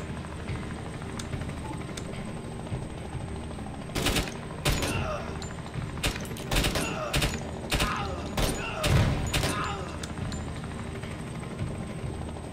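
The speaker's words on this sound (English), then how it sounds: "Let's just throw a frag here." A frag grenade goes off in the tactical game Door Kickers 2, a loud burst followed by a rapid run of sharp, cracking gunfire-like bangs over several seconds against steady background ambience.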